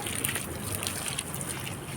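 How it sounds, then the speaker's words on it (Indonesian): Water poured onto potting soil in a bougainvillea pot gives a steady, close trickling and splashing that runs continuously without pause, with no speech. "Saya siram seperti ini, teman-teman."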